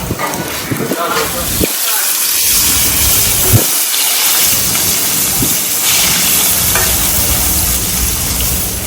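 Hilsa fish and eggplant fry together in oil at a riverside ghat eatery, giving a steady broadband sizzle throughout with brief lulls, while a person talks over it.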